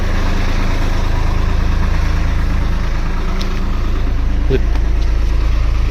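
A steady, loud low engine rumble idles throughout, constant and close, with faint clicks and clanks over the top.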